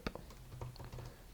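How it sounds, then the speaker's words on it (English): Short burst of computer keyboard typing at a desk, a few quick soft key taps close by with faint room hum underneath, no voices. "I'll just type in grep"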